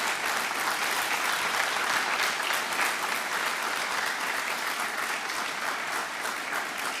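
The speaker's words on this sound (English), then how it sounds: "the round of applause should be big" Sustained, dense applause from a ceremony audience at a hospital central block completion event in Port of Spain, steady and loud throughout with no talk over it.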